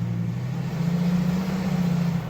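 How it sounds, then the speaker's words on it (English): A Ford Excursion stuck in snow with a rear tire spinning: a steady low engine drone held at a constant pitch, loud and close, with no talking over it. "The passenger side tire in the rear is also spinning"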